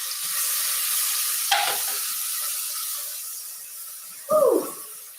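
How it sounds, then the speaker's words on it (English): Cumin and onions sizzle in a pan with a steady hiss, broken by a couple of scraping, clattering stirs, the second louder, close by. "The cumin is sizzling and it's smelling really good."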